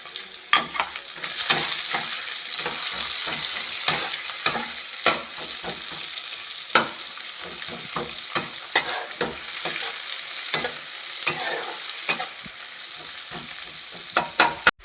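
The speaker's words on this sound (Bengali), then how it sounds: "রসুনটা একটু হালকা ভাজা হয়ে গেছে হ্যাঁ আমি পেঁয়াজটা দিয়ে দিব" Onions and garlic fry in a pan with a steady sizzle, punctuated by frequent sharp scrapes as a spatula stirs them.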